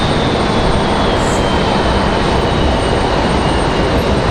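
An Airbus A220-300 airliner arriving from White Plains, heard as a loud, steady, broad jet roar that holds unchanged for the whole stretch with no voices over it.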